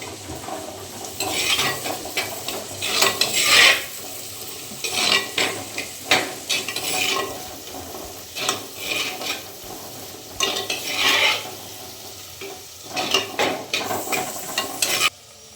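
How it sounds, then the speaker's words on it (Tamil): Onions sautéing in a clay pot for fish curry, a continuous close sizzle under repeated scraping and clinking stirs with a utensil against the pot, irregular bursts throughout, no speech. "வெங்காயம் நல்லா வதங்கணும் ஃப்ரெண்ட்ஸ்."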